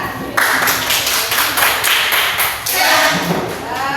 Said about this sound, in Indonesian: Kita beri aplaus kepada kelompok A.